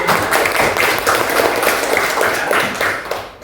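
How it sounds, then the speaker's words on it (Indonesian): A school class claps hands together in a classroom, a brief burst of steady group clapping at close range that fades near the end. "Oke, tepuk tangan dulu."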